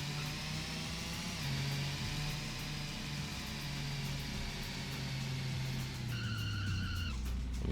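A car engine in a Dreamcast racing game revs steadily at full throttle, a loud sustained drone with rising pitch steps and a brief whine near the end, with no talking.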